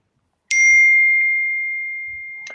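A phone notification ding rings out once, clear and fairly loud, then a long, steady tone slowly fades with a faint second chime at the end; no one speaks.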